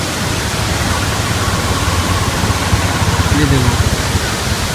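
Diyaluma Waterfall in Sri Lanka roars as a steady, broadband rush of falling water, a continuous hiss that fills the clip, with a voice speaking briefly over it.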